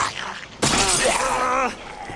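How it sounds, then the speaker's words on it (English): A combat knife shatters in the Resident Evil 2 Remake video game: a sudden loud, bright crash that breaks in abruptly after a quiet moment and rings on with wavering tones for about a second before cutting off. "I think you broke your knife."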